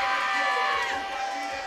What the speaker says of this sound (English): everybody here on their feet. The crowd is getting lit